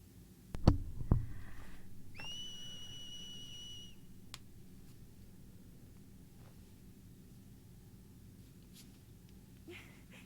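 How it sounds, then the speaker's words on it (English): A character whistles in the Dissidia 012 video game, a bright sustained two-tone whistle after a couple of low thumps, then quiet game ambience with faint clicks. "Wonder if a whistle would work here."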